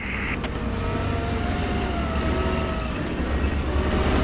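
Leopard tank engine in a combat video game, a steady, loud, low rumbling drone with a constant mechanical roar that holds for several seconds without a break.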